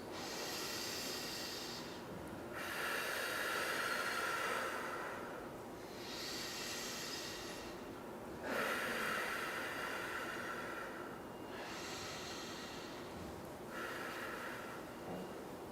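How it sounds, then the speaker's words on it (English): Slow, deep breaths repeat close to the ear, each long airy inhale and exhale rising and falling in a steady rhythm over several seconds, with nothing else heard. "as slowly as you can, take 3 slow, deep breaths"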